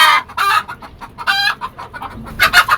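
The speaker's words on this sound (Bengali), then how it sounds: "এই যে ভিউয়ার্স দেখেন আমাদের দেশি মুরগি এগুলা।" Native Bangladeshi chickens on a rooftop poultry farm give a string of close, lively clucks in short irregular bursts, several squawks overlapping, with no talk.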